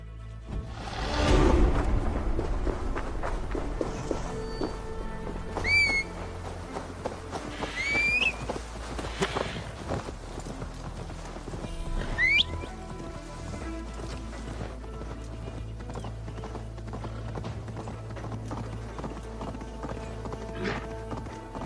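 A horse's hooves clip-clop in a steady galloping rhythm throughout in the video game Assassin's Creed Valhalla, with a few whinnies and snorts rising over the hoofbeats.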